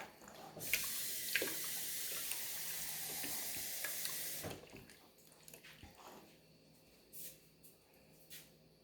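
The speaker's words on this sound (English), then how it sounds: "once I add the 1 cup of water, it'll be 2/3" Water pours steadily into an Instant Pot pressure cooker for several seconds, a close, even splashing that stops abruptly, followed by a few faint clinks and handling sounds.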